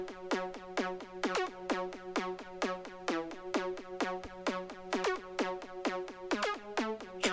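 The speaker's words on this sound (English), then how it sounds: "This lead, I just copied the bass line exactly" A plucky synth lead in a tech house track repeats a bouncy, bass-line pattern of short, bright notes in a tight, steady rhythm, with clear harmonic tones standing alone at moderate volume.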